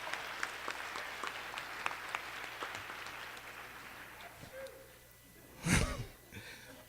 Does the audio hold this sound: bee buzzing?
no